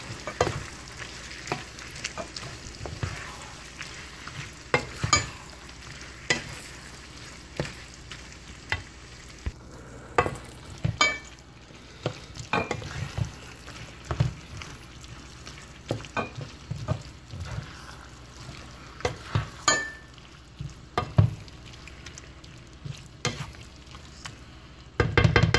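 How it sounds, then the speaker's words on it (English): Egg noodles with teriyaki sauce sizzle in a frying pan while being stirred, a steady fry punctuated by scraping utensil clinks, close and continuous without talk. "we're going to get these noodles nice and covered"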